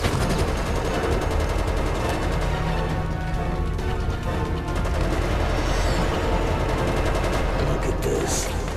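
Dense, continuous gunfire and grenade blasts roar through a zombie-outbreak squad shooter video game, a loud unbroken fusillade of rapid shots and booms with no pause.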